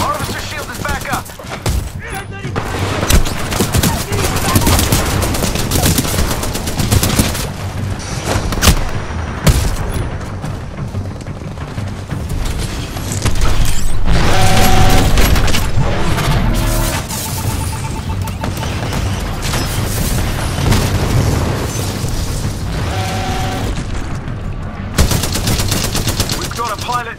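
Heavy gunfire and mortar explosions in the video game Titanfall 2, with dense bursts of automatic fire and booming blasts continuing loudly throughout, and voices talking under the battle.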